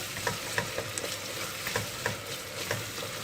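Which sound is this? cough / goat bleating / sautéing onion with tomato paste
sautéing onion with tomato paste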